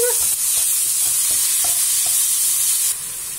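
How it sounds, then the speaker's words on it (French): Ground meat crumbles in a hot pan, a steady loud sizzle filling the background while a utensil scrapes and breaks it apart in a regular rhythm of soft taps. "Je vais essayer d'émietter toute ma viande."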